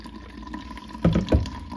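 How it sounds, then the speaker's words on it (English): Fresh watermelon juice pours through a sieve with a steady, close trickle, then two louder splashy gushes near the end. "while the juice is coming out and pouring"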